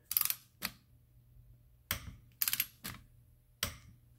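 Torque wrench tightening a front or rear differential on a 2006 Subaru Outback, giving a handful of sharp dry clicks spaced apart in pairs and singles, close and fairly quiet, with no one talking.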